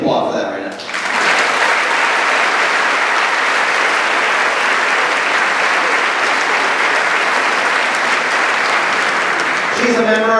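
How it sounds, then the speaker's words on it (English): A graduation audience at the MSMHS 2018 ceremony bursts into loud, sustained applause that rises quickly and fills the hall for about nine seconds before easing off, with voices audible at the start and end. "We can applaud for that right now."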